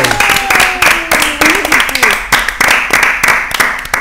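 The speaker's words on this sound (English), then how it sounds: "should we give him a clap? Everyone's cheering." An audience applauds at a fashion panel discussion for Jeremy Scott's womenswear, a loud continuous wash of close clapping with faint cheering, while voices talk over it.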